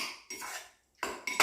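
Utensils clink and scrape in a dish while salmon salad is tossed, a few short close metallic strokes separated by a brief silence.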